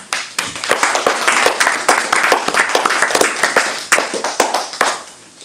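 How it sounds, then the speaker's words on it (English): An audience at a live mantra chanting event gives a lively round of applause welcoming a speaker, dense, loud clapping from a room full of people with prominent individual claps, continuing steadily for several seconds. "please welcome him with a big round of applause"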